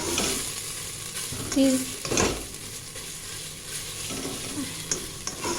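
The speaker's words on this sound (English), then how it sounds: "So here I'm going to fry" Tomatoes frying for a curry gravy base in a pan, a soft steady sizzle broken by a few louder scrapes and clinks of a spoon stirring, with a brief spoken word.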